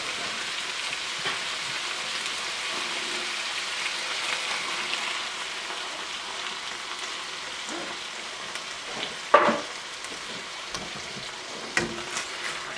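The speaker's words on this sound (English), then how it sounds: "I'm going to stir this up first." Coconut curry Thai chicken being stirred in a pan, a steady sizzling, rain-like crackle with soft scraping stirs and a sharper clatter near the end, no talk.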